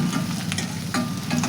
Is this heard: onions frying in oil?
yes